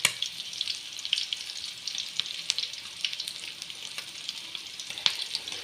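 Bangude (mackerel) and sardine fish pan-frying on a tawa, a steady close crackling sizzle with scattered sharp pops throughout, no voices.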